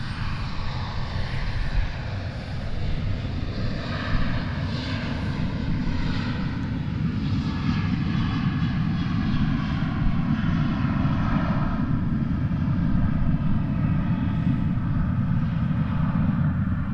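An American Airlines airliner lands on runway 36 left at Dallas/Fort Worth airport, its engines roaring steadily and loudly throughout with no voices.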